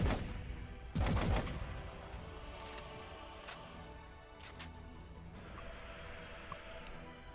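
Gunfire from a chaotic multiplayer battle in Warhammer 40,000: Eternal Crusade, with a loud burst near the start followed by scattered shots and sharp cracks over a steady low battle din, with no talking.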